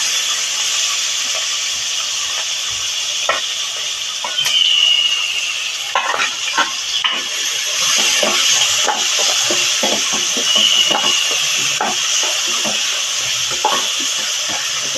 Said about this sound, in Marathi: आता आपण कांदा घालणार आहोत बारीक चिरलेला कांदा